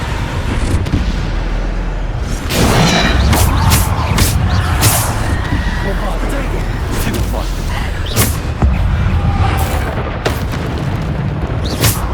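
Bombarda spell blasts go off in Hogwarts Legacy, loud booming explosions repeating every second or two amid constant combat noise, with a voice calling out spell names.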